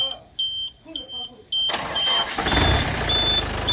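A new vehicle in Panskura gives a few electronic beeps, then its engine fires up abruptly. It settles into a loud, steady running rumble close by.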